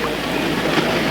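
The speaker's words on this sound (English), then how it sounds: "You like the waves?" Ocean waves washing ashore at the water's edge, a steady broadband wash with wind buffeting the microphone throughout, loud and close with no clear break between surges.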